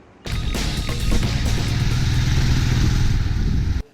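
A Royal Enfield Classic 350 Signals motorcycle with a 350cc air-cooled engine runs steadily, its low thumping drone holding close and loud for several seconds before cutting off abruptly, with no voices.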